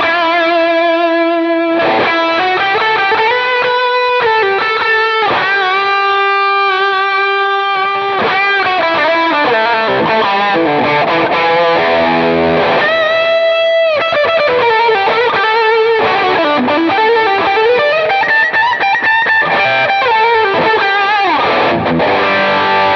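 A sustained electric guitar lead through a Quad Cortex Matchless amp model, with warm, repeating tape-delay echoes trailing each note, steady and loud throughout, with reverb adding space.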